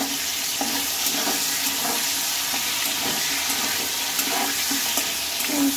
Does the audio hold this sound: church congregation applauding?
no